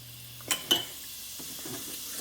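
Cumin seeds drop into preheated oil with a couple of sharp sizzling bursts and a brief stir, followed by a faint continuous crackle.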